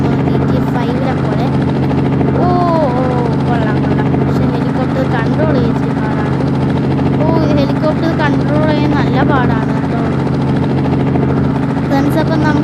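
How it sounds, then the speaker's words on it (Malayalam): A helicopter in the video game Indian Theft Auto drones with a loud, steady rotor and engine hum for the whole stretch. Someone talks over it. "ഹെലികോപ്റ്റർ നമുക്ക് എയ്റോപ്ലെയിൻ അല്ല, ഹെലികോപ്റ്ററാണ് കേട്ടോ"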